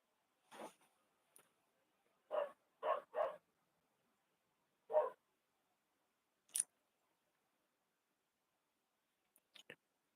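A neighbour's dog barks and yaps in short, isolated bursts from some distance, with long quiet gaps between the single and paired barks.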